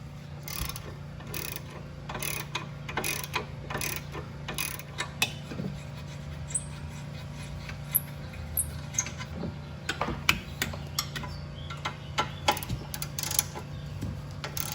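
A hand ratchet with a socket working engine mount bolts on a Fiat 500 Abarth, quiet bursts of rapid clicking and metallic rubbing spread across the clip over a low steady hum.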